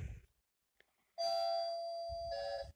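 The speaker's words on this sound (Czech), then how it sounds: "Kdo to sakra zvoní?" A doorbell chimes once, a clear, sustained two-tone ding-dong that rings out loud and close after a brief quiet, with a little low background noise around it.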